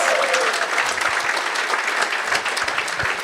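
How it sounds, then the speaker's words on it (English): A room full of people at a tech conference keynote applauds, a dense, steady wash of clapping at close range that holds for the whole stretch. "One more round of applause for our opening keynote."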